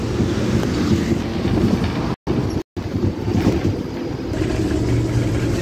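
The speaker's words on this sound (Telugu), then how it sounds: "ఫ్లైఓవర్ లోకల్ ట్రైన్ అక్కడ ఉంది." A local train running near a flyover by Jamai Osmania railway station in Hyderabad, heard from a moving city bus as a steady loud low rumble with rolling rail noise and wind buffeting, briefly cut out once.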